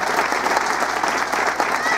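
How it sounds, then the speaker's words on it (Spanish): Audience applause at a symphonic band concert in Lerma, State of Mexico, a dense steady clatter of many clapping hands, loud and sustained throughout with no talking over it. "Fuerte el aplauso, por favor."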